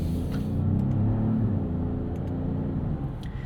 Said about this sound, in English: Brake test. Brake pedal feels nice.